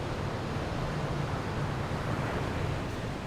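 Steady wash of surf on a beach at Puerto Escondido, Oaxaca, Mexico, a continuous broadband roar, faint and distant with no voices.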